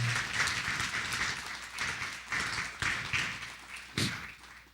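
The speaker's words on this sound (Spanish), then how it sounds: "Dale un aplauso al Señor ahí donde estás." A church congregation applauding during a sermon, with clapping swelling and fading in several uneven waves and a sharper burst near the end; no voices are heard.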